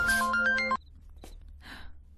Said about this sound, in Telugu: ఫోన్ వచ్చింది బేబీ, ఫోన్